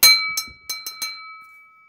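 An empty glass cup rings like a bell, struck five times in an uneven quick series, each strike leaving a clear sustained tone that lingers and fades, close by with no talk.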